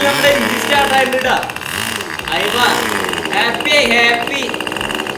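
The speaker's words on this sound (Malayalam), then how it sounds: "ഒരുപാട് നേരത്തെ പരിശ്രമത്തിനൊടുവിൽ നമ്മുടെ എഞ്ചിൻ സ്റ്റാർട്ട് ആയിട്ടുണ്ട്." A Magnum GP 15 2.49 cc nitro model engine runs after a cold start, a loud, close, steady buzzing drone that wavers in pitch, with a voice speaking briefly over it.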